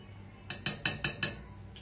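A metal spoon scraping and clinking against a heating pot of cocoa, five quick evenly spaced strokes followed by one lighter tap, close and clear with no talk.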